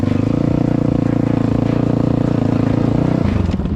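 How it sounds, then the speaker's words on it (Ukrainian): A 2021 Geon GNS 300 motorcycle pulls away in first gear, its exhaust giving a loud, close, steady throbbing drone that shifts in tone near the end. "Але вихлоп прям по ушам хірачить."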